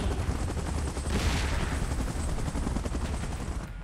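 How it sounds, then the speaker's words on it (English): A helicopter in the PUBG video game's Mecha Godzilla vs Kong mode thuds with rapid rotor chop, loud and close, with a rushing swell partway through before cutting off at the end. "Chopper in position."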